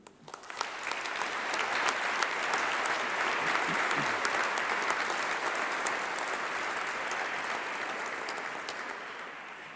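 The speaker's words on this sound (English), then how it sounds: "let's give a huge round of applause and a massive cheer to say thank you to all your supporters" A graduation ceremony audience claps and cheers, a dense sustained wave of applause that swells quickly, holds steady, and slowly tapers, with no talking over it.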